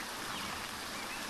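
Steady rain falls in the post-apocalyptic survival game NEO Scavenger, a faint, even hiss of drops that fills the short moment alone with no voices.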